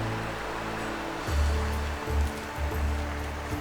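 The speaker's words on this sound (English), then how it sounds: "So we've pulled up by this river." A roadside river flowing steadily after heavy rain, a continuous broadband wash with low rumbling surges rising and falling, fairly close and loud, no voices.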